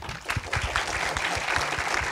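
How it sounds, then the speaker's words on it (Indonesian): Audience applauding four panel speakers at a climate crisis discussion session, a steady burst of clapping that fills the whole short stretch with dense, even claps. "tepuk tangan untuk keempat pembicara di depan sekali lagi"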